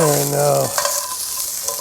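Brussels sprouts sear in a pan over a campfire and get stirred, a loud steady sizzle with scraping strokes that follows a brief spoken phrase at the start.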